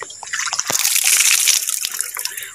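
Cold water splashing and pouring at an outdoor bathing spot in the provincial Philippines, a dense continuous wash of spray with a few louder slaps and drips, close and steady, no talking.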